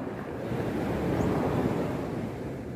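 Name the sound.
sea waves on the beach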